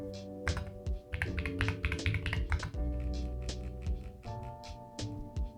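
Typing on an Owlab Voice Mini keyboard fitted with keycaps, producing steady rapid clacky keystrokes, close and clear, with no talking and a faint musical background underneath.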